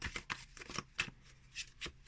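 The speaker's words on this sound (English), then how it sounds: "Not normally my typical way of shuffling cards, but I'm going to go with this." Cirque du Tarot cards being shuffled by hand, a series of quick, crisp riffling bursts in an uneven rhythm, close and fairly quiet with short gaps between them.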